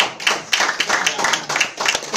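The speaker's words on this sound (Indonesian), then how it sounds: "Tepuk tangan untuk Bapak Jemi." An audience claps at a health presentation in Surabaya, with sharp, uneven hand claps close by that swell and fade in bursts across the clip.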